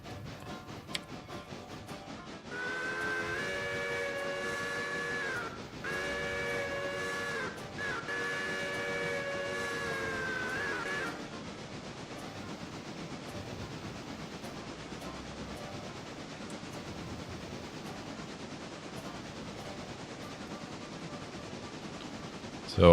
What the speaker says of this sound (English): And we're going to run the passenger train.